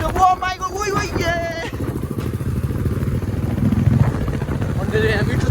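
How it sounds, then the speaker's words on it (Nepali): A motorcycle ridden by a group of young men drones steadily up close, its engine note rising and wavering while the riders talk loudly over it. "बाइक यस्तो मिठो कुदाइरहेको छ"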